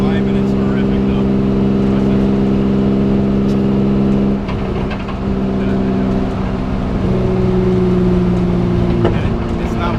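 A BMW E36 fitted with a 2.93 differential and solid diff bushings drones loudly from inside the cabin, its engine note dipping briefly at a shift before climbing again under acceleration.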